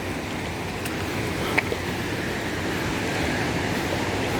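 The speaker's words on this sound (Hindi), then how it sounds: "नीचे जो बरसाती नाला है, बरसाती झरना, उसकी आवाज़ आप सुन सकते हैं" A rain-fed mountain stream and waterfall rush steadily below a trail, a broad, even hiss of flowing water at a moderate distance with a brief faint click partway through.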